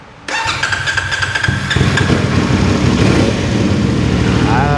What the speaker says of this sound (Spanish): Vamos a prenderla para que escuchen el sonido del motor.